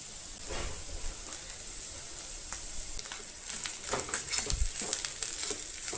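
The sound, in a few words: grated coconut roasting in a pan for masala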